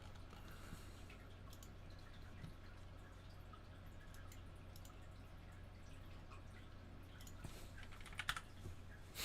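Faint, scattered keystrokes on a computer keyboard tap irregularly over a low background hum, growing into a brief cluster of sharper clicks near the end.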